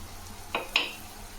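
Mint sautés in a pan for egg vermicelli, a steady soft sizzle with two quick stirring scrapes close by, no voices.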